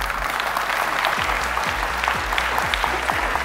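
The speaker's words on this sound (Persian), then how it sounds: "خوب تشویق کنید" A studio audience on the Afghan game show Ro Dar Ro, a Family Feud version, applauds loudly and steadily, a dense wash of clapping that fills the whole stretch, with a low rhythmic thumping underneath.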